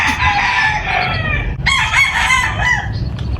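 A rooster crows loudly and close by, two long strained calls in a row, with faint background noise underneath.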